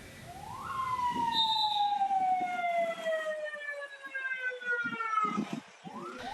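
A convoy of ambulances carrying a body passes a house of mourning in Solo, sirens wailing in long descending sweeps that fade and rise again over street noise and a murmuring crowd.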